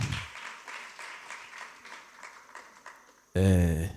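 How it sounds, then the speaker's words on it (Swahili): A church congregation claps for the apostle in a steady spread of applause, fairly faint, before a loud voice cuts in at the end. "tupigieni Apostle makofi"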